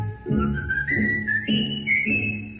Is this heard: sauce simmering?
no